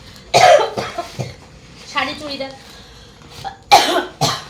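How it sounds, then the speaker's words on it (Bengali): A woman with a cough gives a couple of sharp, close coughs, one near the start and another near the end, with brief talk in between. "কাশি হয়েছে"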